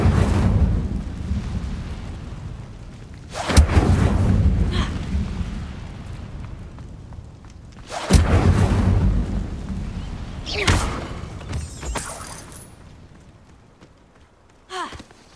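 Incendio fire spells cast in Hogwarts Legacy on Xbox Series X, several loud whooshing bursts of flame a few seconds apart, each one fading into a rumble, with no talk.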